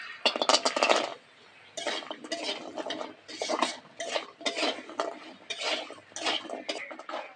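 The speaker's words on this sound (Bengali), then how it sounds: "এবার বড়িগুলো ভেজে নেবো মাছ ভাজার তেলের মধ্যে।" Lentil dumplings (bori) fry in oil left from frying fish, stirred in the pan. The sound comes as bursts of close scraping and clinking from the utensil against the pan between short pauses.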